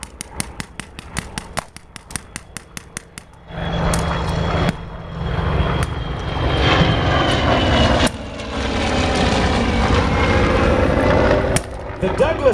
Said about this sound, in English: The Douglas Sky Raider, formerly the AD. Oh, such a sound.